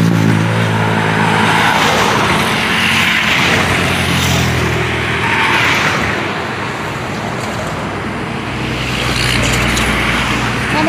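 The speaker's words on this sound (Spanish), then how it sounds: "Pero está bien fuerte ahorita el congestionamiento de carros, congestionado aquí." Heavy congested car traffic on a road near the Chamelecón river bridge in La Lima, Honduras, gives a steady loud roar of engines and tyres passing close by, swelling and easing slightly, with no talk.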